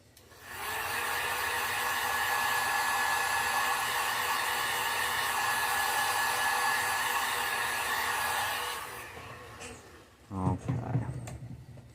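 A hair dryer or heat gun heat-setting paint on a painted fish craft runs as a steady, loud, close blowing whir for about eight seconds, then switches off and winds down, followed by brief talk.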